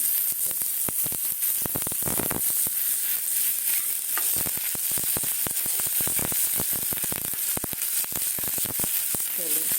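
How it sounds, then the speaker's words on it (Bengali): Vegetables fry in oil in a pan for a mixed vegetable chorchori, giving a loud, dense, continuous sizzle and crackle up close, punctuated by quick spatters and stirring scrapes. "আর একটু তেল লাগবে মানে সবজিগুলো ভাজবো তো"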